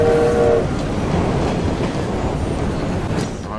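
A moving train in Assassin's Creed Syndicate, set in Victorian London: steady loud rumble and rattle of the rolling cars, with a brief horn-like tone at the start, no voices.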